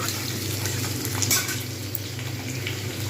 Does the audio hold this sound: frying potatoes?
yes